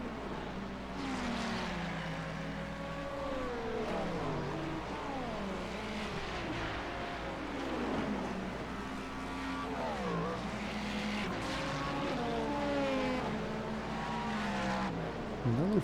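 Hypercar race car engines in an IMSA racing video game roar continuously, with rising and falling pitch sweeps as cars shift gears and pass close by, loud and unbroken throughout.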